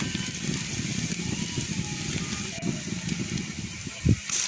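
Thick-cut onion slices fry in hot oil, giving a steady loud sizzle and hiss that runs unbroken throughout, with a brief clunk near the end.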